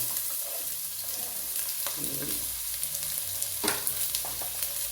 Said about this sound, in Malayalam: ഇനി ഇതിലേക്ക് ഉള്ളി ഇട്ട് കൊടുക്കണം കേട്ടോ.